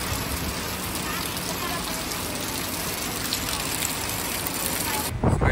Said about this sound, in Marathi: बघू शकता पाऊस फुल जोरात आहे